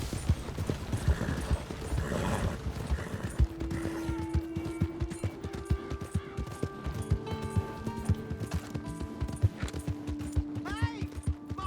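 Horse hooves clop and gallop in a busy Red Dead Redemption 2 game soundscape, mixed with mechanical effects and a few sustained tones.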